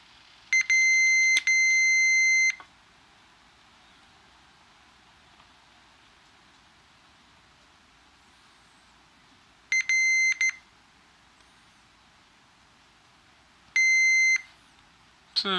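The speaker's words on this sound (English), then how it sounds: "I forgot to turn on the beeper on my multimeter" Multimeter continuity beeper sounding while probing a GameBoy cartridge board, three separate bursts of steady high-pitched electronic beeping, the first about two seconds long, with quiet gaps between them.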